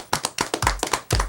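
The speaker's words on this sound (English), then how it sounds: "A warm round of applause for the brother Hammurabi Bey." Hand claps from a studio audience come in a quick, close run of about half a dozen sharp, uneven slaps over a little more than a second, with no voices.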